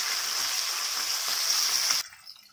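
Pomfret fish sizzles steadily in a frying pan with a bright, hissing crackle for about two seconds, then stops abruptly, leaving only faint residual sizzle.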